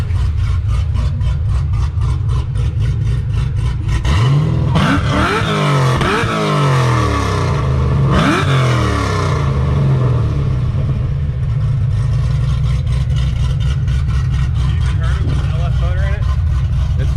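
A 1972 Monte Carlo with an LSA engine idles with a lumpy, loping beat. It snaps through two or three sharp revs that climb and fall, then settles back to a steady loud idle.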